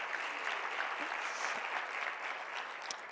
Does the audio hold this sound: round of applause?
yes